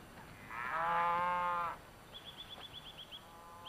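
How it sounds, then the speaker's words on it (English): Cattle being turned out to pasture beside a copse on a Hokkaido farm: one long, sustained moo, followed by a quick run of bright bird chirps at a distance. "the commotion of cattle being turned out to pasture beside the copse"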